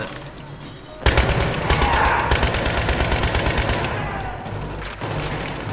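Loud, sustained automatic gunfire in the video game Battlefield 3, starting abruptly after a quiet second and rattling on in rapid bursts up close, with brief dips between strings of shots.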